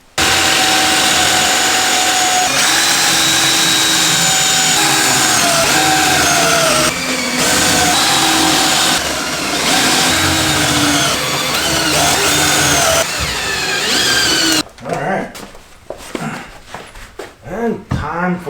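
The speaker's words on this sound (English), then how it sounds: "Time to use the jig again to drill spots to hold the top on." A power drill bores pocket holes with a Kreg jig while a workshop table is built, a loud, sustained whirring whine that runs for roughly fourteen seconds before cutting out into quieter, patchy sounds.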